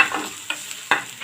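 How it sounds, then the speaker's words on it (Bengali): Onion and garlic frying in a pan, a steady close sizzle broken by a few sharp crackling bursts as the pieces are stirred, alone with no voices. "পেঁয়াজ আর রসুন ভাজি করে নিলাম।"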